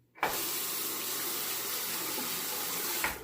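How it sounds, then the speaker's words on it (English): Water drains from a bathroom sink during a wet shave as a steady, loud rushing gurgle that starts abruptly and runs unbroken for a few seconds before cutting off. "I'll drain this water"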